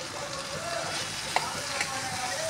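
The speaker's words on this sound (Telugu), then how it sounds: "ఒకసారి గరిటె పెట్టి తిప్పుతున్నాను, పైకి కిందకి కలిసేటట్టుగా." A ladle stirs boiled rajma and potato into a sizzling onion tempering, steady frying sizzle with a couple of soft scraping clinks of the ladle, close and continuous with no talk.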